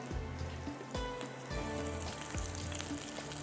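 Oil sizzles and crackles steadily with a dense, rain-like patter, as garlic and green chillies fry lightly in a pan for tadka.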